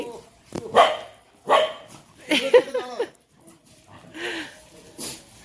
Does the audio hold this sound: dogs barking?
yes